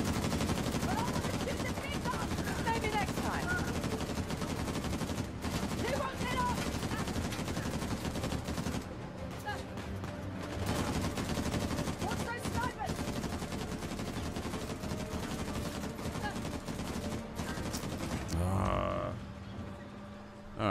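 Gunfire in the game Uncharted: The Lost Legacy, dense and continuous across the whole stretch, layered with music and game effects and a brief drop near the end, while a voice talks over it at times.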